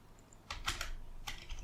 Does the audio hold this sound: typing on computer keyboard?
yes